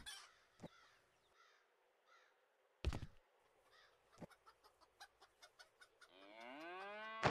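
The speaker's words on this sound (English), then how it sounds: "Oh, wait. I have a chicken?" Chickens in the farming game Farmer's Life: scattered soft clucks and a quick run of evenly spaced clucking, then a loud drawn-out rooster crow at the end, with no speech over it.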